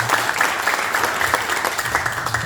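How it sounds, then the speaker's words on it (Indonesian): Audience applause at a community business event: a crowd clapping steadily and evenly, moderately loud, sustained for the whole stretch without voices over it. "Tepuk tangan buat mereka berdua."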